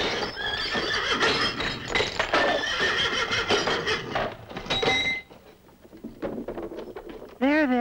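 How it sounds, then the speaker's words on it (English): Cartoon horses gallop with busy clip-clopping hooves and a jumble of noise. The sound then quiets before a loud, close whinny breaks out at the end. "Those horses have gone wild!"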